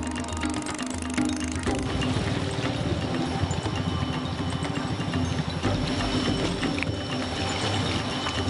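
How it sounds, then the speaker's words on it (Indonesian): Outboard engine of a ketinting longboat on a river, a dense, rattling drone with rough rhythmic chugging, steady and close throughout, mixed with rushing water. "Perahu ketinting dengan mesin tempel dan baling-baling kecil menjadi satu-satunya kendaraan yang dapat meliuk-liuk di antara jeram-jeram besar"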